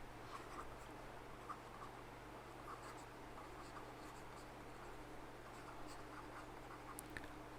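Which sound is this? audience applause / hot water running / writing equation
writing equation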